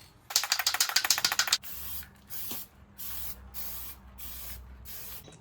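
Spray sealant hisses onto a BMW 330i E46 head gasket in one close, rapidly pulsing burst lasting about a second, followed by quieter shop noise.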